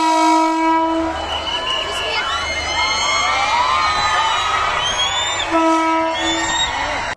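A train pulls into Janakpur Dham railway station, its horn blaring in long sustained blasts at the start and again near the end, with crowd noise and voices beneath.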